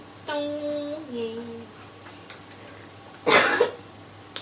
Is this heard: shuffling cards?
no